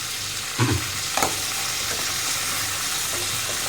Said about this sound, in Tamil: நெய் நல்லா உருகிடுச்சு. முந்திரி போடுறேன்.